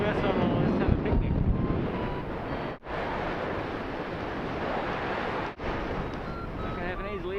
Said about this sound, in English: It's a bit tricky to land in the wind